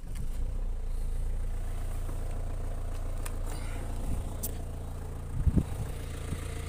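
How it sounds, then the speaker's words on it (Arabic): A 2002 Renault Megane engine idles at a used-car dealer with a low, steady rumble that stays even throughout, with a couple of slight bumps near the end. "هذا الموتور هذا كيضرب سير"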